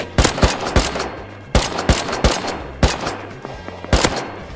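Gunfire in a shooter video game, sharp loud shots in short bursts of two or three with brief gaps, close and punchy with no talking.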